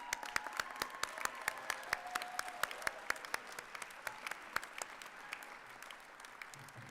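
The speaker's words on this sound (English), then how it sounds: "give yourself a round of applause. You know you want to clap." Medical students at a white coat ceremony clap for themselves, a scattered crowd of sharp, distinct handclaps that carries on for several seconds at low to moderate level before thinning out.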